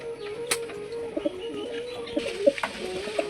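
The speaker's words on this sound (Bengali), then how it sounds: "এখানে একটা ফেসা কালারের পায়রা রয়েছে গ্রিবাজ গিরিবাজ পায়রা" A giribaz pigeon coos in a steady low rumbling tone close by, with short bursts of other bird calls and wing sounds in a loft.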